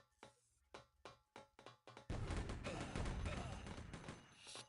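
A burst of gunfire in the video game Hired Team: Trial: about eight quick, sharp shots in an irregular rhythm, then a dense, continuous roar of firing and noise.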